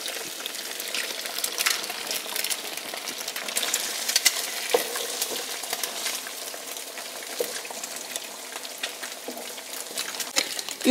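Eggs frying in hot bacon drippings in a pan, a dense, steady crackle and spatter with small pops throughout, close and fairly loud.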